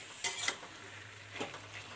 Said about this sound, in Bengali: মশলাটা মাখিয়ে কিছুক্ষণ একটু কষিয়ে নেবো সবজিটা দিয়ে।